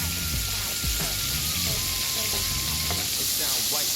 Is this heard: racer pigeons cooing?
no